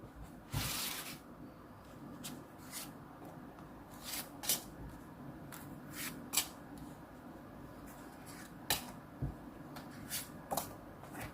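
Tarot cards being shuffled and drawn for an Aries health reading: soft, scattered papery flicks and taps at an irregular pace, close but quiet, with no talking.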